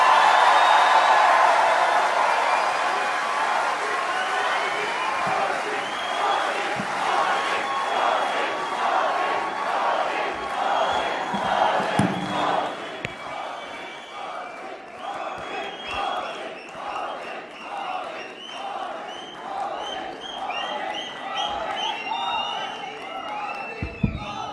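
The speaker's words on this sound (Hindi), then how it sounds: "हमारे प्रिय प्रधानमंत्री श्री नरेंद्र मोदी जी का तालियों की गड़गड़ाहट से स्वागत करें" Large crowd at an event in Berlin, Germany welcoming Prime Minister Narendra Modi, cheering and clapping loudly and continuously for about twenty-five seconds, with rising shouts and whoops.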